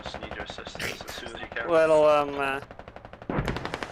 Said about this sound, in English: I love how both Foxhounds are firing on each other.